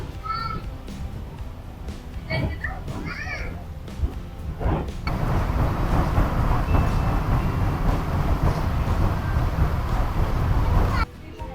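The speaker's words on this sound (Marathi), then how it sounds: "बघा दुसरी ट्रेन आली ना, हा क्रॉसिंग पॉइंट आहे." Malanggad funicular railway car rumbling up the hill past a crossing point, a low steady mechanical drone that swells loud midway and cuts off near the end, with people talking over it.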